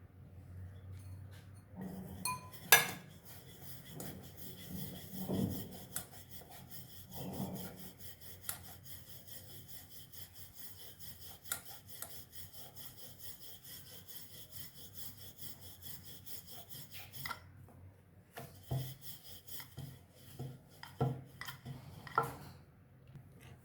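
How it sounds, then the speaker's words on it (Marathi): Rolling pin working tandoor roti dough to medium thickness on a board, giving a steady soft rubbing and rolling sound with occasional knocks, continuous and close in a quiet home kitchen. "हा आपण आपल्या चपातीसारखा असं थोडा जास्त पातळ पण नाही आणि जास्त जाड पण नाही असं लाटून घेऊया"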